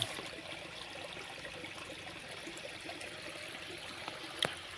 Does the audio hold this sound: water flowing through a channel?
yes